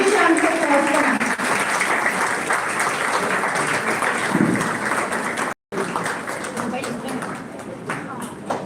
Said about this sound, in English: Let's have a big round of applause for ma'am.